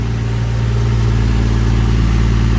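A 1JZ-GTE engine swapped into a Toyota Supra MK3 idles smoothly and steadily, a loud, close, even low rumble with no revving and nobody talking.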